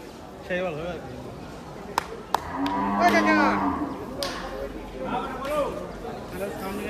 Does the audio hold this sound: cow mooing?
yes